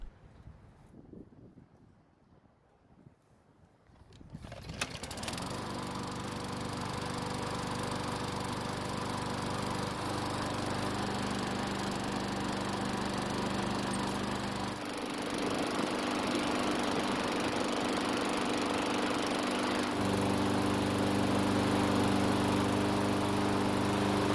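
A Yard Machines lawn mower engine starts after a few seconds of quiet handling noise, then runs steadily and loudly on its own with a constant droning hum.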